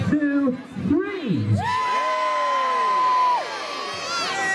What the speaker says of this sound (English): I want you to give me a massive cheer